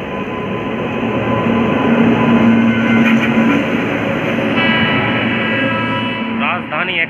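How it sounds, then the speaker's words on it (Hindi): Passenger train hauled by a WAP 7 electric locomotive rolling in, a loud steady rumble of wheels and carriages with a faint squeal and hum, and someone talking over it near the end. "तो WAP 7 के साथ आ रही है कोई सी ट्रेन।"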